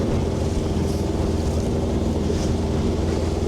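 A sailboat motors across open water in strong wind, steady engine rumble blended with heavy wind buffeting and wave wash, loud and continuous with no talking.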